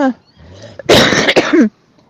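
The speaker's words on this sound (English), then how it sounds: "Sorry, I have to cough." A loud, harsh cough burst of about three quick hacks, close up, with brief quiet voice sounds just before and after.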